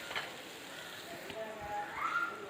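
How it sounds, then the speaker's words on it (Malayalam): Tomatoes sautéing with salt in a pan, a steady soft sizzle and hiss throughout, close and moderately quiet. "എല്ലാം നന്നായിട്ടൊന്ന് വഴറ്റുക"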